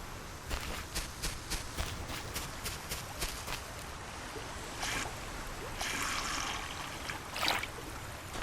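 A wooden watering can filled with water in the game Solarpunk: a run of soft clicking steps gives way to a gentle, steady trickle and splash of pouring water, fairly quiet throughout.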